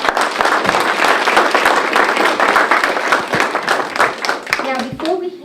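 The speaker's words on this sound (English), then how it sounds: "our round of applause" Applause from an audience at a community fund annual meeting, sustained close clapping for about five seconds before tapering as a voice begins speaking.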